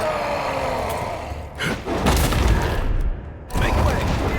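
An ogre's bombs burst in Avowed as a dense, roaring barrage of booms and crackling blasts that fills the whole stretch, with brief dips between the loudest explosions.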